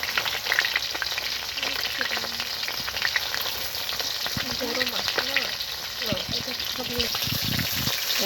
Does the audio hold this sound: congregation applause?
no